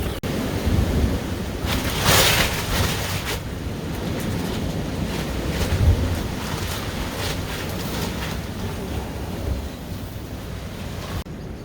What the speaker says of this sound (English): this wind is really getting up now